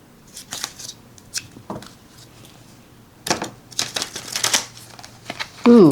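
Lenormand oracle cards being overhand shuffled by hand in quick papery bursts, soft riffling slaps repeated in short runs, close up with a quiet room behind.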